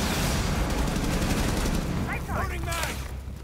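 Rapid gunfire emptying a full magazine in Rainbow Six Siege: a dense, sustained burst of shots that fills most of the stretch, then tapers off as brief chirpy in-game sounds and voices come in near the end.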